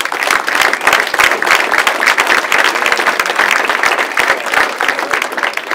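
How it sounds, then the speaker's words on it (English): A loud, sustained round of applause from a seated audience at an investor coalition meeting, crisp individual claps packed into a continuous roar that holds steady from start to finish. "Let's give Joe a round of applause"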